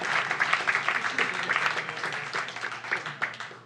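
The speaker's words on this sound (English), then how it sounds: "round of applause for Carl's French accent" An audience applauds throughout, dense clapping that swells and decays for several seconds.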